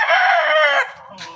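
A Boston White rooster crows once, loud and close, a single drawn-out call that trails off into quiet yard sounds.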